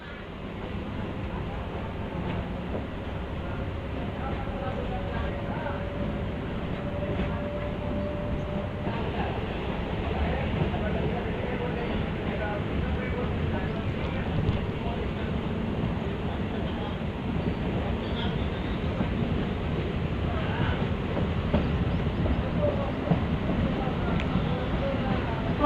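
A MEMU passenger train holds a steady rumble and clatter, heard from aboard a coach, with a continuous broadband roar across the whole stretch and a faint tonal whine early on.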